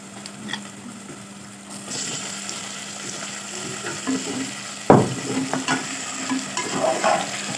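Chicken pieces fry with onions in a hot pan, giving a continuous sizzle under a busy, scraping stir that grows louder and more frequent partway through.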